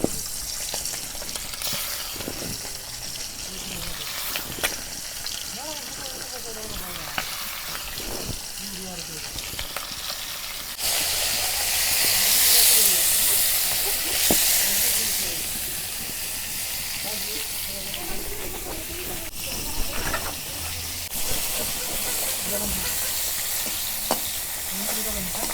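Pangas fish frying in hot oil in a wok, a steady crackling sizzle running throughout with stirring clinks and scrapes, swelling louder and hissier midway as steam rises, with a voice talking faintly at times.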